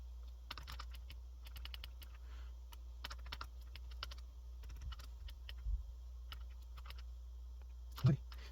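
Keys on a TI calculator are pressed in scattered quick clicks and short runs of taps, faint and close against a low steady hum.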